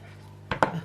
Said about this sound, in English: Cut 1 onion in large chunks.